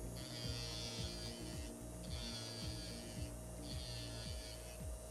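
Electric nail file buzzing steadily while nail edges are filed smooth during Spider-Man nail art, a close high whine with repeated short dips as the bit lifts from the nail, no talking.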